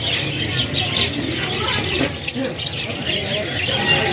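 Canaries chirp and trill at the Pramuka bird market amid busy crowd noise, with dense overlapping calls close by and a few dove-like coos mixed in.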